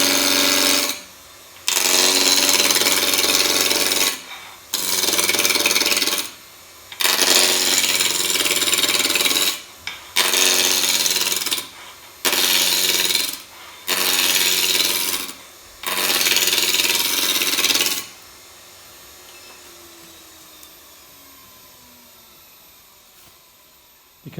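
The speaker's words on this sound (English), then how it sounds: "As we bring this backhand up, we're going to find the cut and take the shavings away." A spindle roughing gouge cuts a wooden spindle on a lathe, producing loud close bursts of rough, rasping shaving noise in about eight repeated passes separated by brief pauses, then the quieter hum of the spinning lathe.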